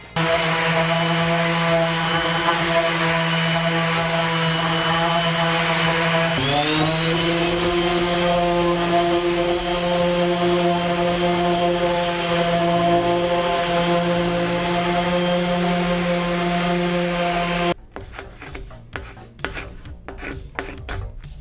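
Power sander working over a wooden picnic table, a loud continuous whining rasp with a steady hum that shifts pitch partway through, then cuts off and leaves faint scraping and taps.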